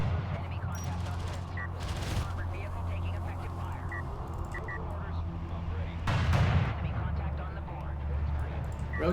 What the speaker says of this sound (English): Railgun's gonna begin the engagement now.